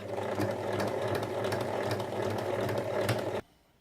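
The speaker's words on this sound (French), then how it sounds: "on va venir piquer tout le long en haut, ici, à 5 mm du bord, tout autour" Sewing machine stitching along the top edge of a fabric Christmas stocking, a fast, steady mechanical whirr with rapid needle ticking, close and continuous for over three seconds before stopping abruptly.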